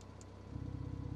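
A Porsche 911 Carrera GTS with a valved exhaust idles quietly at first, then steps up to a louder, deeper, steady pulsing drone partway through, switching from quiet to loud mode.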